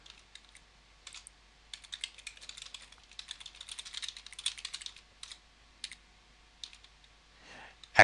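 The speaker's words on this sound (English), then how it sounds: "we'll type in question 2" Typing on a computer keyboard, a quick irregular patter of light key clicks in short bursts, fairly close and clear, ending with a louder knock.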